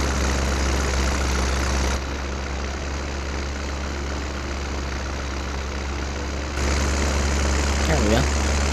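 A tractor engine plowing snow drones steadily and loud at close range, a constant low rumble with a rougher patch near the end and a faint voice briefly over it.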